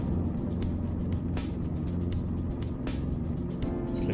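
A Robinson R22 helicopter hovers with a steady, loud rotor and engine drone that holds constant throughout, close by with no talking.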